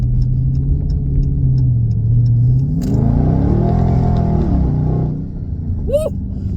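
A modern muscle car engine rumbles under heavy throttle, the pitch climbing through a hard acceleration pull before easing off, loud and close; a voice whoops near the end.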